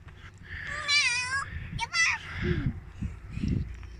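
A cat meows several times with rising, wavering cries, while a voice and other chatter carry on underneath.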